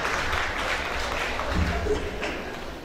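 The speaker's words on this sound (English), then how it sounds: "So give me a big round of applause for doing that." Audience applause at a celebration of life memorial for the late Kwaku Peter Okyere, a steady broadband clatter of many hands filling the room at moderate level, continuing evenly for a few seconds.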